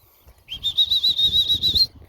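A live bird flaps its wings as puppies chase it, a near, steady run of fluttering beats with a high whirring tone that lasts about a second and a half.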